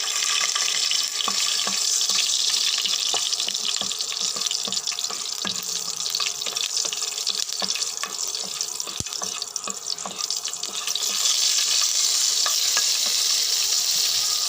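Green chilies go into a frying drumstick curry, a steady loud sizzle with occasional stirring clicks throughout and no talk.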